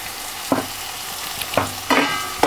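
Masala paste sautéing in a pan for Tamil-style crab curry: a close, continuous sizzle with three or four distinct scraping stirs of a spoon against the pan, no voices.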